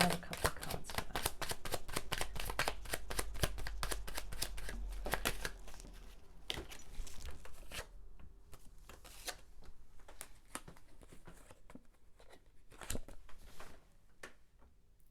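Tarot cards being shuffled by hand, a fast run of crisp riffling clicks that later thins to sparser taps, close and fairly quiet, with someone speaking softly.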